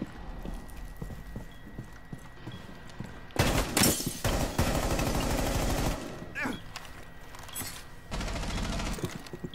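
Rapid gunfire rattles in the tactical shooter Rainbow Six Siege, a dense clattering burst of shots that surges loud for a few seconds before dropping back, with a second shorter burst later over quieter game ambience.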